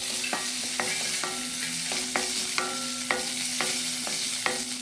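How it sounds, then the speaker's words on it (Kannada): Dried coconut sizzles in ghee in a pan for a jackfruit sweet, with a steady frying hiss broken by repeated ringing scrapes of a spoon stirring against the metal, roughly once every half second. "ಸ್ವಲ್ಪ ತುಪ್ಪ ಕಮ್ಮಿ ಆಯಿತು, ಸ್ವಲ್ಪ ಹಾಕ್ಕೊಳ್ಳೋಣ. ಸೊ ಎಲ್ಲ ಫ್ರೈ ಆಗಲಿ"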